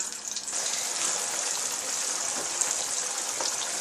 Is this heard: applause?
no